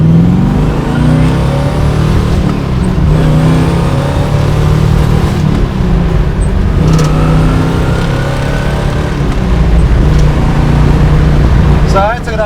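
A 1969 Chevrolet Camaro COPO with its original drivetrain accelerates hard, the engine note climbing steadily through the revs in a loud, continuous roar heard from inside the car, with voices talking over it.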